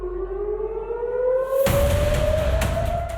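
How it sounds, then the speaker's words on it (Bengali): A civil defense warning siren wails during a rocket attack on Israel, one steady rising tone that grows louder and is joined halfway through by a broad roaring rush. "ঘন ঘন সাইরেনের শব্দ"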